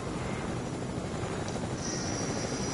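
A video game helicopter in flight gives a steady, dense rotor and engine roar, close and constant throughout, with no voices.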